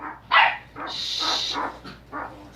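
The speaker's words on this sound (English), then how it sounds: "my dogs are going ballistic here and stuff outside" Several dogs bark and yip excitedly indoors, near and loud in a rapid string of bursts, while someone shushes them.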